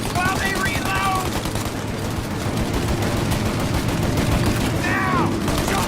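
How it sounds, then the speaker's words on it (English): Sustained gunfire in Mafia Definitive Edition, dense rapid machine-gun bursts rattling without pause, loud and close, with brief shouted voices near the start and end. "Shoot up your gun when there's a break in the fire!"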